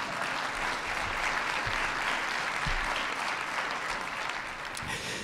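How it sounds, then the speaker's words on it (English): An audience applauds an award recipient at an Order of Ottawa ceremony with steady, full clapping from a seated crowd, continuous and without talk. "you may applaud."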